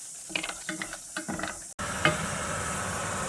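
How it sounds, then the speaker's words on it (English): Caramel for popcorn melting in a pan, with several rhythmic scraping stirs at close range followed by a continuous hiss and sizzle. "I'm stirring it. Oh, it's getting there. It's melting."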